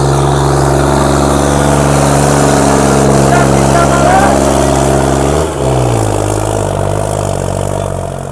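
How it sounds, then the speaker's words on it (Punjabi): A heavy diesel engine of a new tractor runs steadily and loud throughout, with a brief dip in pitch midway before settling back into a constant drone. "ਨਵਾਂ ਟਰੈਕਟਰ ਆ 90 ਘੰਟੇ ਚੱਲਿਆ"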